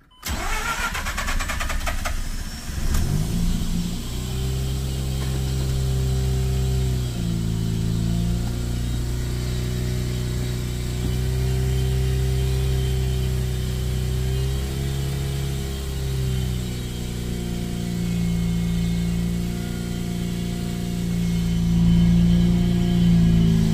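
A Mazda RX-8 rotary engine fitted with an LS coil conversion cranks over and catches, then settles into a loud, steady idle with throttle blips and revs rising toward the end, close and alone with no talk.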